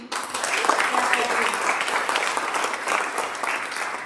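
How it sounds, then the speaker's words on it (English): Steady applause from an audience at a Women's History Awards cocktail reception, a dense wash of many hands clapping close by, sustained evenly for about four seconds. "round of applause"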